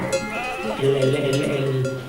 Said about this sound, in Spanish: Entre las ovejas y el dueño.